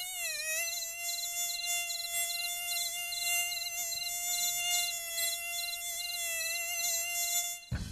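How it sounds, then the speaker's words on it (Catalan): A mosquito in flight gives a continuous high, whining buzz from its beating wings, loud and close throughout, with a slight wavering in pitch and no voices. "Aquest molest brunzit és causat per la fricció de les ales amb l'aire"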